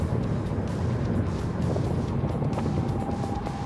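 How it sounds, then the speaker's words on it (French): Continuous low rumbling road noise from an electric car's tires rolling on pavement, steady and fairly loud, with no talking. "le bruit de roulement des pneus sur la chaussée"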